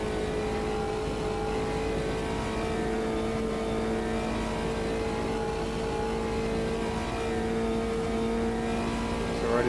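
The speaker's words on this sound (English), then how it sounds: "wait for the rev limiter to kick in" Race car engine in Automobilista 2 held high in fourth gear against the rev limiter, a steady loud drone with a sustained tone throughout and no talk.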